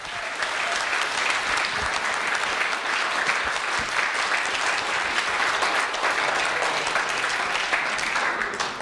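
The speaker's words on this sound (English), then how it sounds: "we give him a huge round of applause" A large audience at an awards ceremony in London breaks into loud, sustained applause, a dense wash of clapping that holds steady throughout with no pause.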